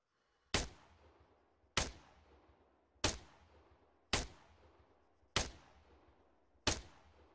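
Six sharp rifle shots in Arma III, evenly spaced about a second apart, each a loud crack with a decaying tail over a low ambient rumble.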